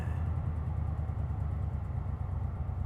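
The Beast, an old car, driving with its engine giving a steady low rumble and droning vibration close to the listener, with no voices.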